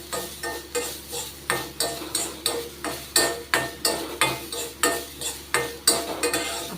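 Grated coconut dry-roasts in a pan for Udupi-style idli podi, with a spoon scraping in a steady rhythm of about two strokes a second, close and fairly quiet.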